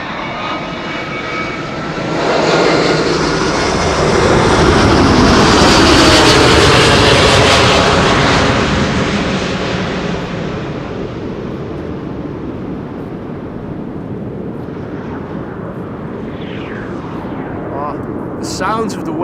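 An airliner arriving on runway 06 at Amsterdam Schiphol makes a loud jet roar that swells as it passes overhead and then fades into a long rumbling wash of wake and wind noise. Faint voices appear near the end.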